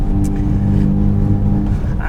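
A Kia EV6 GT electric car, 650 hp, accelerates hard on a race track, a loud, steady whining motor drone with road and wind roar, heard from inside the cabin.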